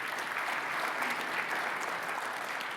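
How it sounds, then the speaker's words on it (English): A conference audience applauds steadily, a continuous wash of clapping that holds at an even level throughout, moderately distant and with no voices on top. "thanks for giving them a big round of applause"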